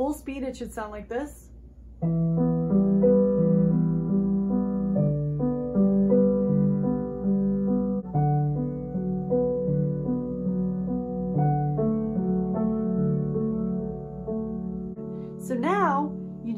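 Solo piano plays a looping theme from Amélie, steady repeated broken chords ringing close and clear, with a short spoken voice just before and after the passage.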